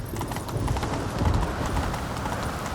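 Horse hooves gallop in a steady clip-clop rhythm through The Witcher 3 video game, loud and continuous with a busy game soundscape behind them and a faint whinny.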